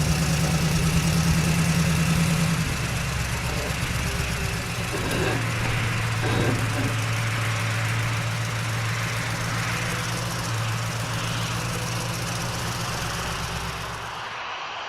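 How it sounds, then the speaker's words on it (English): A cartoon tow truck's engine idles and rumbles steadily while turning a huge passenger airplane toward the airstrip, a continuous mid-low drone that shifts in pitch partway through and fades slightly at the end. "Now, the tow truck can turn the plane to the airstrip."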